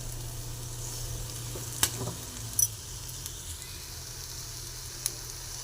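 Capsicum sizzles in a pan as a rice bath breakfast dish is fried, a steady soft frying hiss with a few brief clinks of stirring, no voices.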